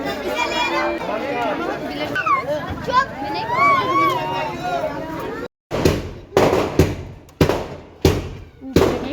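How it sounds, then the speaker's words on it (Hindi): Fireworks go off at an Indian wedding procession as a crowd chatters. A run of sharp, loud firecracker bangs in quick succession follows a stretch of busy outdoor babble. "ये इतनी आतिशबाजी हो रही थी"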